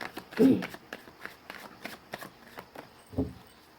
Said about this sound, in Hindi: गाइस मैंने कर लिया है कार्ड्स की सफलिंग